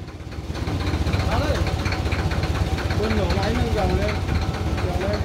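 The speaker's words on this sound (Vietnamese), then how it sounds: "Anh nổ máy cho gầu lên đi." A Kubota L1 275 tractor engine idles and runs with a steady mid-pitched drone to raise the bucket, close and continuous, while people talk over it.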